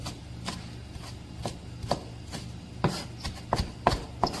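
A knife chops leftover scallion pieces into half-centimetre bits on a cutting board, giving a steady series of close, sharp taps roughly two or three per second, irregularly spaced and unaccompanied by talk.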